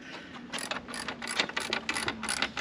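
Ratchet wrench tightening Scorpion exhaust bolts on a Harley-Davidson Pan America, a close, quiet series of rapid clicking bursts in a steady back-and-forth rhythm.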